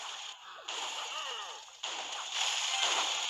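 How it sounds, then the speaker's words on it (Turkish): A bomb thrown in the Clash Royale mobile game makes short whooshing swishes and bursts, with a brief dip in the middle before the sound swells again, and no talking. "Dur ben de bomba atayım."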